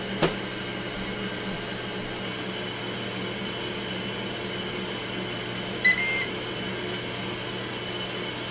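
A Ninja Foodi Grill hums steadily as it preheats, with a soft click near the start and a short burst of electronic beeps later, signalling that food can be added.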